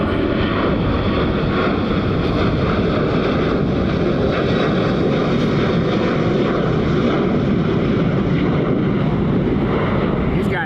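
A United Boeing 777 charter jet roars through takeoff at Cleveland in a loud, continuous engine rumble and whine that holds steady from a fairly close distance, with some wind noise.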